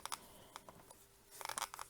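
A styrofoam container is handled while homemade watercolor paint is mixed, giving a few faint, short crinkly squeaks and scrapes in quiet bursts near the start and end.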